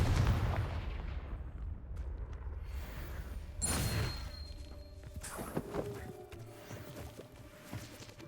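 Confringo wand spell blast from Hogwarts Legacy, a sharp burst near the start of the fourth second followed by crackling debris and smaller bangs, set against a quiet, faint game backdrop with no talk.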